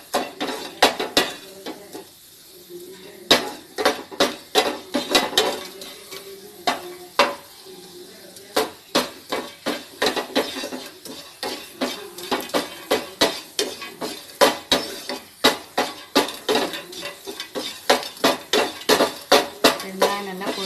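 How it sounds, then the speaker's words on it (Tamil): A utensil clatters rapidly and repeatedly against a pan while asafoetida fries in oil, loud and close, with a faint sizzle underneath. "பெருங்காயம் நல்லா பொரியட்டும்."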